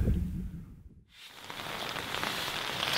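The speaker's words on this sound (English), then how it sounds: "It's starting to rain and snow again." Steady rain mixed with snow patters across an outdoor mountain hunting spot, a close, continuous hiss on the ground and surrounding leaves, thinning briefly before returning at full strength.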